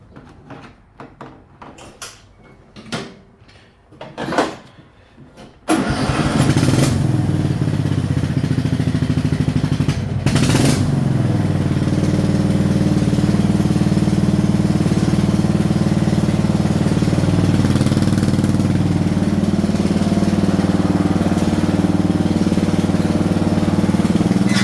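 A 2007 Craftsman rear-engine riding mower, left sitting for five years, cranks through several sputtering attempts before catching, then runs loudly and steadily at a constant rough idle that fills the rest of the clip.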